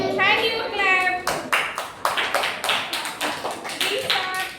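Children clap their hands in a classroom, a series of sharp, fairly close claps in an uneven rhythm, with a voice speaking over the start.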